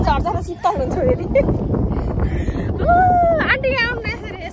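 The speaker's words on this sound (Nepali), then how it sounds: "कस्तो हावा चल्दो रहेछ" Strong wind buffets the microphone on a high sky bridge, a steady loud roar running throughout, with people talking over it and a brief whistling tone near the end.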